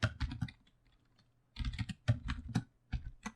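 Bursts of quick keystrokes on a computer keyboard as code is typed, close and fairly quiet, with short pauses between flurries and no talking.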